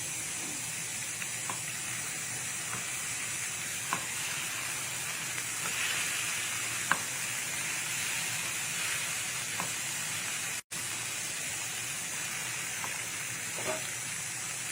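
Whisked yogurt sizzling and frying in a hot pan while cooking chole, a steady dense hiss with occasional stirring clicks and a brief dropout, no talking.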